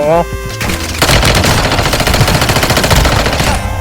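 Rapid automatic gunfire in the Warzone Mobile shooter game, a loud, dense rattle of shots that runs almost without a break.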